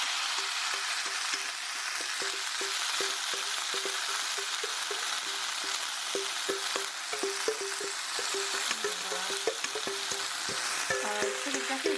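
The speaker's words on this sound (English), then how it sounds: "But we're going to stir fry these." Marinated vegan japchae noodles stir-fry in hot oil in a pan, with a steady sizzle and repeated scraping, tapping strokes of a spatula that grow busier toward the end.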